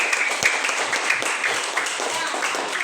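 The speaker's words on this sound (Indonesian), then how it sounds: "tepuk tangan untuk Norlin" Steady applause from a group in a classroom, dense clapping filling the room throughout, with faint voices mixed beneath.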